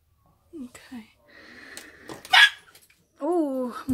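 A pet dog at home lets out a sharp bark and some whiny, wheezy yelps close by, with someone talking around the sounds.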